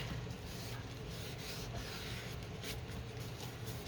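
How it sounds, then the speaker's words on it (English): Paper glued onto a scrapbook page being rubbed down by hand, a soft steady rustling friction that continues evenly throughout, quiet and close with no talking. "I like to press and then rub because I don't want to move what I've just glued down."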